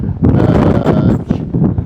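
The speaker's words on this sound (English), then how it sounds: "It's rough, it's choppy, it's windy, and it's very, very cold." Steady, loud, cold wind at sea on choppy water buffeting the microphone, a rough low roar that rises and dips slightly without pause.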